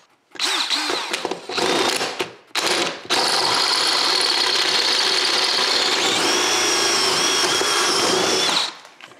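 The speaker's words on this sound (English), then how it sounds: "I actually had to use a step bit at the top" Power drill fitted with a step bit boring a hole through a workbench top, heard as a loud, steady whine broken by a few brief bursts before one long continuous run that stops abruptly.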